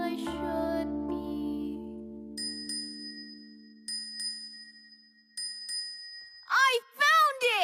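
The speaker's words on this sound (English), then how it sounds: "I've got this bell with me" A small bell from a Thomas & Friends All Engines Go toy set rings in bright repeated dings, sustained tones sounding three times after a low musical chord, with a child-like singing voice at the end.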